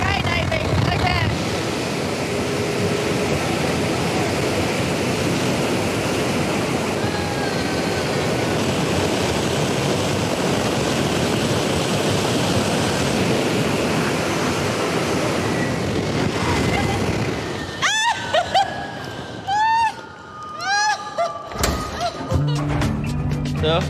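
Wind tunnel airflow at 181 km/h makes a loud, constant roaring rush for about seventeen seconds, then dies down while people talk over fainter residual noise.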